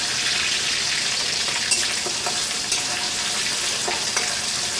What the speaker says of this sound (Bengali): তারপর 3টা কুটি শুটকি তেলে দিয়ে দিলাম